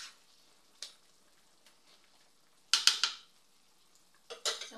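Pancit bihon rice noodles and vegetables stirred in a pot, with a few scattered scrapes and clinks: a small tap early, then two clusters of metallic scraping and clatter separated by quiet.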